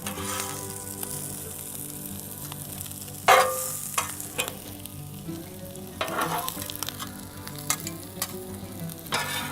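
Peppers fry on a Blackstone flat-top griddle, a continuous close sizzle with scraping spatula strokes and clanks of metal on the hot surface, loudest in a sharp burst near the middle.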